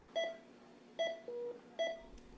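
Three short bursts of telephone dialing tones in a steady rhythm, each a clean, close electronic tone with one longer held tone between the second and third, alone with no voices.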